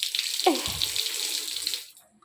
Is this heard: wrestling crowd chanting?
no